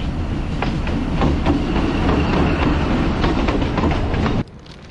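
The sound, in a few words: train running on rails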